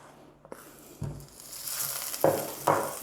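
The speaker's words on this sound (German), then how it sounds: "sobald der Zucker so eine schöne goldgelbe Farbe hat, kommt etwas Butter dazu" Butter dropped into golden caramelized sugar in a pan bursts into a hissing sizzle that swells after a quiet start, with a few sharp clanks and two louder surges of spitting toward the end.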